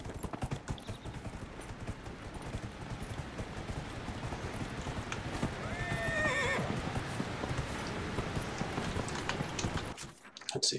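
Horse in the Dragon Age Inquisition video game whinnies sharply amid a continuous, close clip-clop of galloping hooves, with faint game ambience underneath; the hoofbeats cut off near the end.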